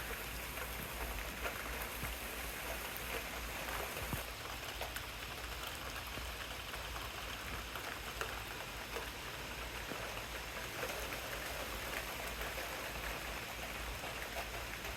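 Steady rain falling and pattering on surfaces in the rural American countryside, a dense, even hiss that continues throughout without pause or voices.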